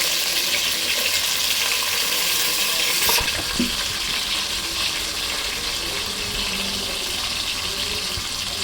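Onions, curry leaves and green chillies sauté in a pan for a fish curry, giving a steady, loud hiss of frying that runs without a break. A brief clatter of stirring is heard near the middle.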